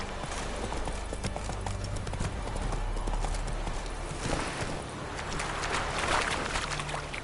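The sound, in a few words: Geralt's horse Roach galloping, from video game The Witcher 3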